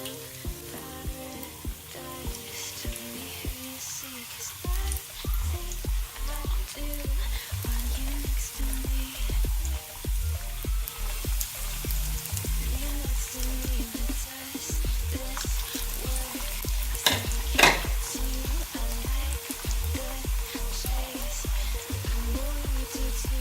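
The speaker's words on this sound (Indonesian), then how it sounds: "Kita goreng satu persatu." Meat-filled taro croquettes fry in hot oil with a continuous crackling sizzle and dense popping, steady and close throughout, with occasional soft clinks of utensils and no talking.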